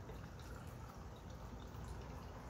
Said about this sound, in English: So let's go ahead and pour this.